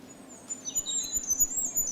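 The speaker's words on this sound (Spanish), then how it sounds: "del reyezuelo sencillo, el pájaro más pequeño de toda nuestra fauna, 6-7 gramos de pájaro, y un sonido tan agudo como es este" A goldcrest, a tiny bird of only a few grams, sings a thin, very high-pitched, wavering song of fine rising and falling notes, faint and close, with no other sound.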